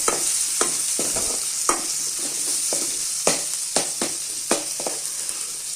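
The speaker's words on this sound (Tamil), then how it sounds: "இதில் கொஞ்சம் கருவேப்பிலை போட்டாச்சு. நல்லா வதங்கட்டும்." Curry leaves frying in a hot pan for a crab gravy, a steady sizzle broken by repeated scraping stirs with sharp clacks of the spoon against the pan.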